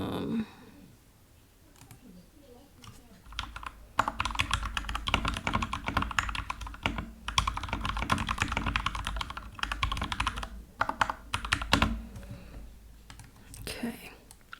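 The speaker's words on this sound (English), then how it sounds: "actually type that number correctly" Bursts of close, soft typing on a computer keyboard run through most of the stretch, with quick clattering key presses, a few pauses and faint whispered talk in between.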